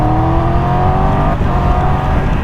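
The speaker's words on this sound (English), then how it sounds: "It's got that lovely growl, it's got that 270-degree T-plane crank, that odd firing order just to give it more character." Engine note from a Triumph 1200 GT Pro motorcycle with a 270-degree T-plane crank and roughly 1200cc twin, a steady loud growl with a slight dip in pitch partway through, heard alone without voices.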